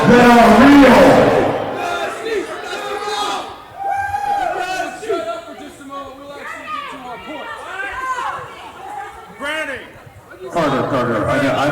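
A wrestling arena crowd in Springdale jeers and shouts at heel wrestler Tier 1, a loud, sustained mass of overlapping voices, cheers and chatter that swells near the start and again at the end.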